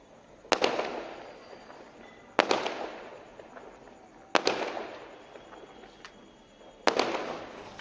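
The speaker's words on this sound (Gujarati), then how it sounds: "ફટાકડા ફૂટે છે." Firecrackers burst outside during Diwali celebrations, four separate sharp booms spaced a couple of seconds apart, each followed by a rumbling echo that fades, heard from a rooftop at moderate distance.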